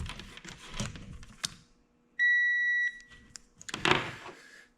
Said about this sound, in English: to test these winch solenoids, you want to turn your multimeter onto the sort of wave or sound looking symbol. That's to test for continuity.